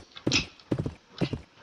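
Horse hooves in a Roblox cowboy game clip-clop in three quick bursts, close and fairly loud, with short pauses between them.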